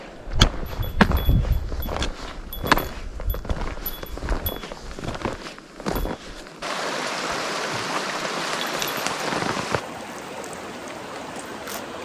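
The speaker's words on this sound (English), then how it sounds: "Well, fresh water" A small backcountry creek trickles and rushes steadily near the microphone, interspersed with footsteps and occasional thunks, the water hiss swelling louder midway before easing off slightly.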